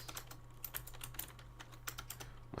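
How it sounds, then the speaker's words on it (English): Quick, uneven tapping on a computer keyboard during a coding session, soft, close clicks in an irregular stream, with no speech over it. "my typing is out of balance today"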